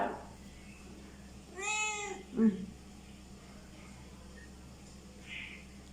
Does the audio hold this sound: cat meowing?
yes